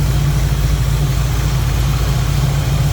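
A 1967 Pontiac Firebird coupe's engine idles with an Edelbrock carburetor and HEI ignition, a loud, close, steady low rumble with a constant throb and no revving or voices.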